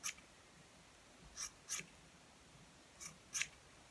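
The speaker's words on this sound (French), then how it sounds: "je coupe mes cheveux" Scissors snip through hair in short, crisp cuts, a pair of quick snips, a pause, then another pair, close and quiet against a hushed room with no talking.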